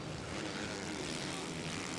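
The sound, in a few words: motocross motorcycle passing on race track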